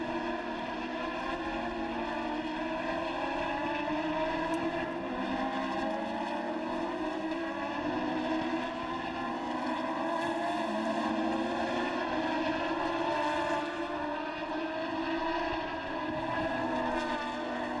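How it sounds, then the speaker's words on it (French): Formula Renault 3.5 race cars at the Hungaroring in 2008, a steady, continuous engine drone with shifting pitch heard from a distance, without pauses throughout. "Marco Barba qui a dans l'accélérateur, dans l'échappement"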